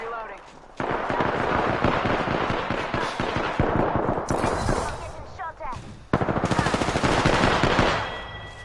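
Fully automatic weapon fire in Apex Legends, long rapid bursts of loud close gunshots broken by short pauses, with someone talking over the shooting.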